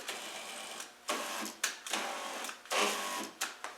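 An electric car seat motor runs off a battery in short whirring bursts, about six starts and stops in close succession, each a brief buzzing drone heard near and alone.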